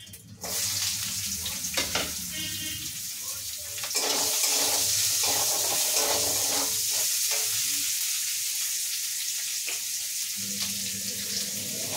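Chopped onion and green chili hit hot oil in a pan, giving a loud, steady sizzle that swells partway through, with occasional clinks of stirring underneath.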